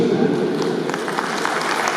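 A short burst of clapping for the bear mascots at a school sports event in Mogilno, moderately loud and steady, with an announcer's voice mixed in underneath.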